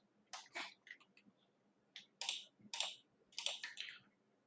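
Quiet bursts of keystrokes clatter on a computer keyboard in short uneven runs, close and clear with no talking.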